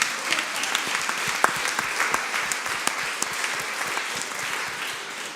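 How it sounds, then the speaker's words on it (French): A conference audience applauds Marie-Pierre Rixain at a round-table session, with continuous, even clapping from many hands that tapers slightly toward the end. "applaudissez-la"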